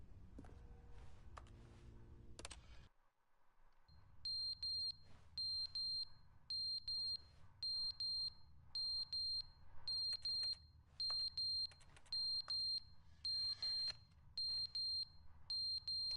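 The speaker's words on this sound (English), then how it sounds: "at least we know the smoke detector still works" A smoke detector in The Stanley Parable beeps over and over, sharp and high, in a steady rhythm of about one beep per second after a brief silence, with a low hum running underneath.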